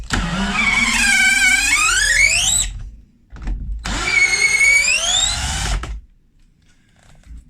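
A Black and Decker 18v combi drill runs twice, its motor whining up to a high pitch and holding steady before stopping, with a short bit of silence between the two loud, close bursts.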